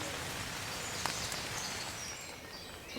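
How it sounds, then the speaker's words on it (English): Steady rain patters on a tent and tarp at a summer wild camp, a dense continuous hiss of drops throughout with one brief brighter tap near the middle and no talking. "Nice laying here though, and listening to the rain."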